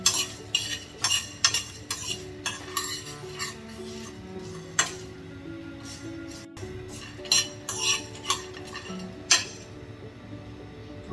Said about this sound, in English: cumin seed, Jeera, coriander seed, Dhaniya, and dry roast them on medium flame until you get a nice aroma.